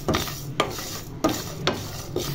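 Flax seeds fry and are stirred in a pan over low heat, giving a steady rasping scrape of spoon against metal with a rhythmic stroke about every half second and a soft sizzle underneath.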